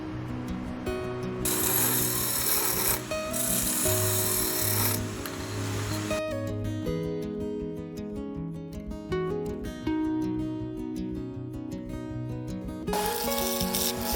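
A carbide tool cuts a cedar vase spinning on a wood lathe, loud bursts of harsh scraping alternating with quieter stretches of the motor's tonal hum and light rattling.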